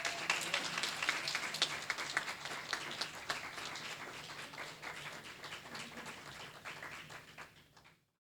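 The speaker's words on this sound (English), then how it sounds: "let's clap our hands as our panel guests come forward." An audience at a relationship conference claps steadily as panel guests come forward. The dense applause is fairly faint and distant, continues for several seconds, then fades and stops abruptly.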